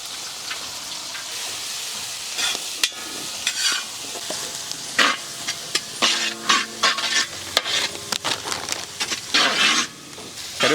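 Onion and garlic frying in a pan with mustard seeds, pepper and cumin for a village-style Tamil dry fish curry, a steady close sizzle broken by repeated scraping stirs of a spoon, no talking.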